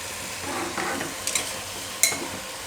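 Spinach being stirred in an open pressure cooker, a soft sizzle with a few scraping strokes and a sharp clink near the end, close and fairly quiet.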